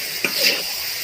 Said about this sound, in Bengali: মাংসটা দিয়ে আমি 5 মিনিট পেঁয়াজের সাথে ভালো করে নেড়ে নেব।